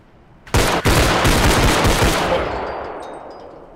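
Gunfire in the tactical shooter Bodycam: two sharp, loud shots at once set off a dense, roaring burst of echoing fire that slowly decays into a long reverberant tail, with no talking over it.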